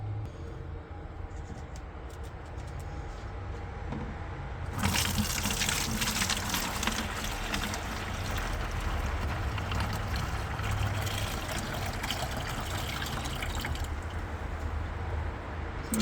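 Wool dye water pours and splashes through a fine-mesh strainer, a loud, steady rushing gush that swells partway through and keeps running. No one talks.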